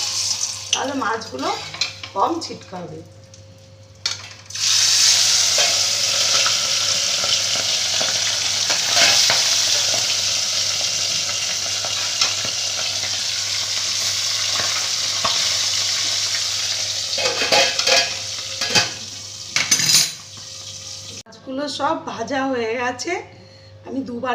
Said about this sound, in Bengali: এবার ঢেকে ঢেকে আমি মাছগুলোকে ভেজে নেব